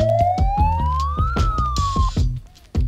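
A police siren wails in a rising sweep at a street protest, competing with loud rhythmic drumming and crowd noise, ending abruptly.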